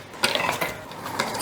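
Dry ingredients for ube waffle batter being stirred in a bowl, a few light scraping clinks of a utensil against the bowl, close and fairly loud over a soft steady background.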